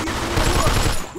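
Gunfire erupts in the video game Mafia 2, a loud, dense burst of rapid shots and booms packed into about a second, close and overwhelming.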